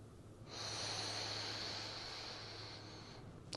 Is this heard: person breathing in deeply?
yes